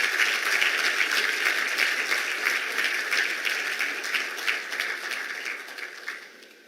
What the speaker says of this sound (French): Des applaudissements à la hauteur.